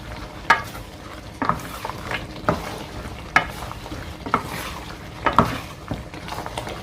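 Mutton karahi curry being stirred in a wok with cumin powder and turmeric, frying in oil: a steady close sizzle broken by sharp spoon scrapes against the metal every second or so, no talk.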